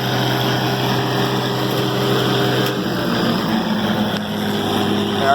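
Combine harvester engine running revved up during a soybean harvest, a loud steady droning hum with a constant whine that holds evenly throughout, heard from inside the cab.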